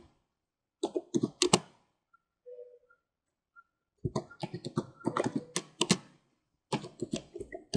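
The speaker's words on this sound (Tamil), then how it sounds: "ஃபஸ்ட் நீங்கள் இதை அப்படியே பார்த்து உங்களோட நோட்பேடில் டைப் பண்ணுங்கள்" Fingers tap a computer keyboard in quick bursts of close, crisp clicks, broken by a quiet pause with a faint tone before the rapid typing resumes.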